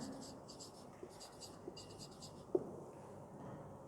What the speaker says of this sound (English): First question I write it down.